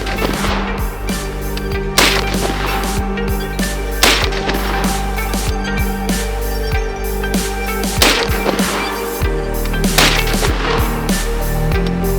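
A .458 SOCOM rifle being fired, heard as several loud, sharp gunshot reports spaced a couple of seconds apart, each with a brief ringing decay over a constant background.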